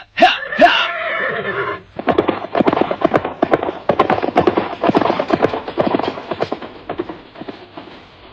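A horse is ridden, a whinny first and then a fast, loud rhythmic clatter of hooves that carries on steadily before easing toward the end.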